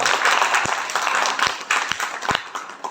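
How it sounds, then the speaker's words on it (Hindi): Loud applause from a seated crowd at a lecture gathering, dense steady clapping filling the whole stretch with a few sharper individual claps standing out. "जोरदार तालियां चाहिए लोगों को"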